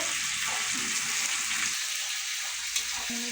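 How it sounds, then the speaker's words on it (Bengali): Oil sizzles steadily in a pan as spices fry, with occasional stirring scrapes, close and moderately loud, no voices. "নেড়ে নেড়ে ভেজে নিয়ে লাল লাল করে নিতে হবে"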